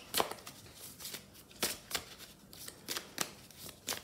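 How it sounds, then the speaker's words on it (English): Tea leaf oracle cards being shuffled by hand, a series of quick, crisp riffling bursts in an irregular rhythm, close and fairly soft, with no talking. "Let's shuffle some tea leaf oracle."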